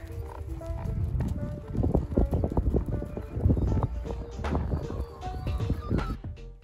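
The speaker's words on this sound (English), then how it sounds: "She's a nice horse." A horse walks at an eventing competition in Kirkcaldy Park, its hooves clip-clopping in an irregular, close, steady rhythm on firm ground for several seconds, with no voices over it.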